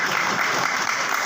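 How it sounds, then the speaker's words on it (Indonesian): A congregation applauding during a church synod service in Papua, a dense, steady wash of many hands clapping together, close and loud throughout with no break. "Tepuk tangan bukan kesusahan ini"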